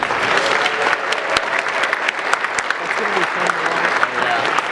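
Convention crowd at an anime convention's opening ceremony applauding, a thick continuous patter of clapping with a few louder individual claps, and a voice briefly audible underneath toward the end.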